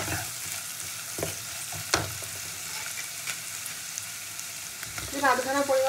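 Chopped tomato dropped into onions frying in a pan, a steady close sizzle with stirring and a sharp clatter, the frying flaring louder near the end.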